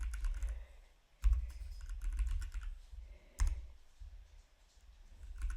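Command being typed on a computer keyboard, close key clicks in quick flurries with two sharper strokes standing out, likely the enter key, against a low steady hum.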